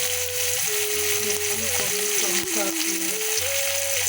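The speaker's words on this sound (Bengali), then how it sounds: "কিছু না, কপিটা একটু নেড়ে দিই" Cauliflower frying in hot oil for a potato-cauliflower fish curry gives a constant loud sizzle while being stirred, with a faint tonal hum and brief background sounds mixed in.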